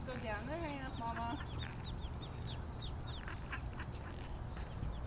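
A mother duck leading her nine ducklings gives a few faint quacks at the start, followed by scattered high, thin peeps against a low background hum.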